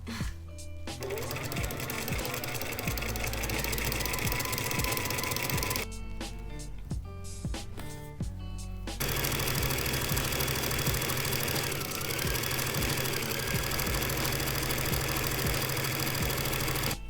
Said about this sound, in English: So I think it's time for me to start sewing the fabric.